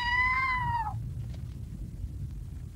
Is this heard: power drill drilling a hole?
no